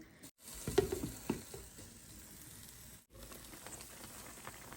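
Chicken cooking in a pan on a home stove, a soft steady sizzle with a few clattering bumps and stirring knocks near the start, faint and close with brief dropouts.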